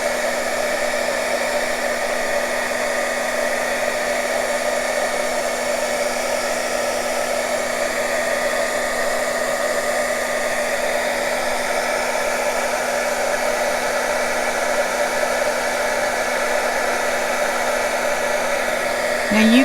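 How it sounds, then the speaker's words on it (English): A heat gun blows in a continuous, even whir close by as it reheats beeswax on a junk journal cover, holding one steady airy tone throughout with no pauses. "take your heat gun, and it's going to reheat it"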